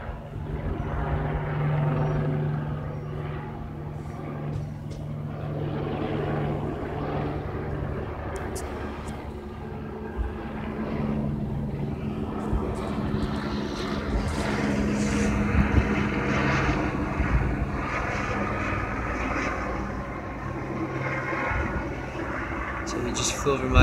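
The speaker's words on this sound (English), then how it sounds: "So he just came by and waved the tail of the helicopter." Police helicopter passing low over a residential area, its rotor drone steady and fairly close for over twenty seconds, rising slightly toward the end, with a person talking throughout.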